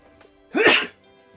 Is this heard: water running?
no